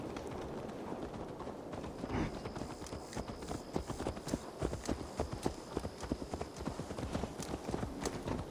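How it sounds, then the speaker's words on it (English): Horse hooves clip-clopping at a steady trot in Assassin's Creed Valhalla, a close, regular run of hoof beats on hard ground with no talk over them. "Let's return the horse."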